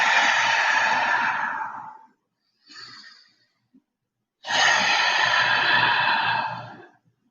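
Long, slow breaths during a yoga flow: a drawn-out exhale, a short quieter breath, then another long audible exhale, close and breathy with no talk.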